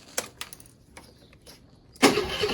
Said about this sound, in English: first thing you're going to do is you're going to start the engine and run it for about a couple of minutes